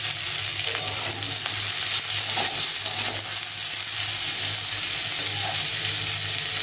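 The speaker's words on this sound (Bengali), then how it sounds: "সজনাগুলো দিয়ে একটু ভেজে নেব।" Drumsticks (moringa) are frying in a pan with potato and bitter gourd, producing a continuous bright sizzle with occasional stirring scrapes and a low steady hum beneath, close and loud.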